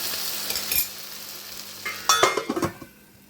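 Brinjal cooking in a pan, a faint frying hiss followed by a short burst of stirring scrapes and clatter near the end, close and without talk.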